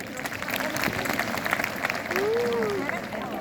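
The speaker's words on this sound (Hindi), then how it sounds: "आप एक बार फिर भारतीय नारी होने पर तालियां बजाइए।" An audience at an inspirational lecture on Indian women claps in a dense, continuous round of applause that is moderately loud and sustained, with a voice briefly heard over it.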